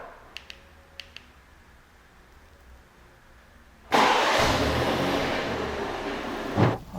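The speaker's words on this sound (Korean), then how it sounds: "차키 가운데 이 버튼을 3번 연속 눌러주시면은 시동이 걸립니다" A BMW 3 Series started by remote key: three faint clicks from the key button, a pause, then the engine cranks and fires into a loud steady idle close by, with a small rev near the end.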